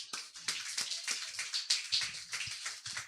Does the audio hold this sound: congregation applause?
yes